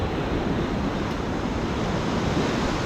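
Surf washes steadily onto a city beach near a harbour at Souda Bay, Chania, Crete, a continuous broadband roar with light wind noise and no distinct breaks, close and fairly loud throughout.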